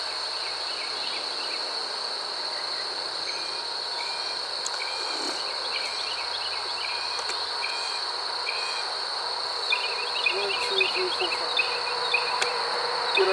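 Queenless honey bee colony giving off a loud, steady buzzing hum that fills the air continuously, with faint intermittent chirps and small knocks close by.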